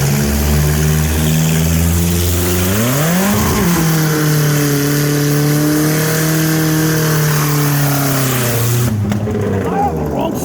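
A Kia Spectra with an open exhaust revs hard and loud, its pitch climbing, peaking and dropping before it holds a sustained high drone, with someone talking over it.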